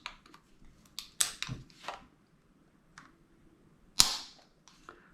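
Dry-fire trigger pulls on a Stealth Arms Platypus competition pistol checked with a trigger gauge: a few sharp, quiet mechanical clicks spaced apart, the loudest snap near the end, in a quiet room with light handling noise.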